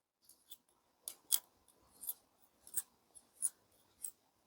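Several short, crisp snips of small scissors cutting fly tying material at a tying bench, close and fairly quiet, spaced irregularly over a few seconds with no speech.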